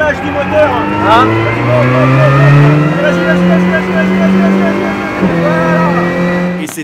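A race car engine revs through its full range, its loud, close drone climbing and settling in pitch, with people talking over it.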